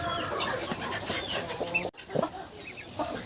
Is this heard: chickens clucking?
yes